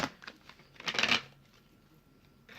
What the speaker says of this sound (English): as I'm just shuffling